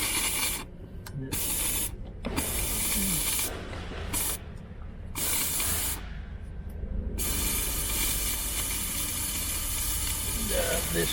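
A steam cleaner sprays into a BMW's air-conditioning evaporator, a loud, broad hiss that runs nearly continuously with a few brief pauses.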